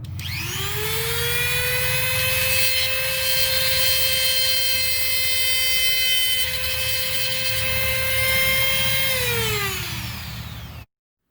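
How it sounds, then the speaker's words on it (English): A power grinder spinning up and grinding down a cut nail on a firestick handle, a loud steady high-pitched whine that holds for about ten seconds before winding down. "we're just going to go ahead and grind that cut nail down a little bit"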